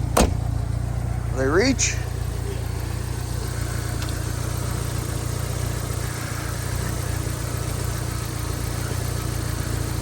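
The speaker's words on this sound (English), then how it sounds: "Nothing like a four-cylinder jumping a V8 first thing in the morning, right?" A 1992 GMC V8 engine idles steadily after a jump start from a four-cylinder car, a continuous low rumble close by, with a short spoken remark near the start.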